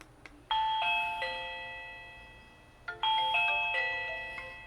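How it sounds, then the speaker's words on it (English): A Reolink video doorbell chime sounds after its button is pressed, playing a clear multi-note ding-dong melody twice in a quiet room at moderate volume, with no talking. "let's try the doorbell push to notification speed"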